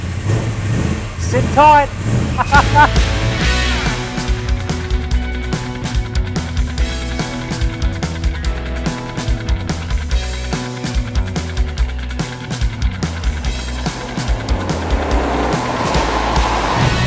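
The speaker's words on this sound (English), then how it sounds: "I am driving a car with Phase 4 heritage" An Australian muscle car with Phase 4 heritage drives along, its engine rumbling and revving continuously through gear changes, heard from inside the cabin while someone talks briefly.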